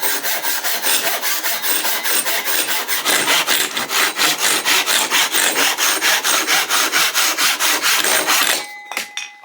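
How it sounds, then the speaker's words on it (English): A Japanese double-edged pull saw with 10/17 TPI teeth rasps through a thin piece of wood in loud, steady, close strokes, about three per second, then stops abruptly near the end. "We're going to cut the piece of wood with the thinner side."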